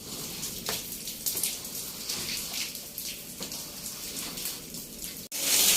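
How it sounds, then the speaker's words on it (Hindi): Steady heavy village rain with a rushing wash of water through a drain throughout, dense and noisy, with a brief dropout near the end before the roar returns louder. "ये देखें जी बारिश पर नाले से आपको अंदाज़ा हो रहा होगा कि कितनी तेज़ है।"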